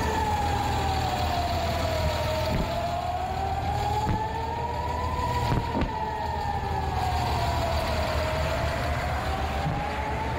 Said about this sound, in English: to hear those deafening sirens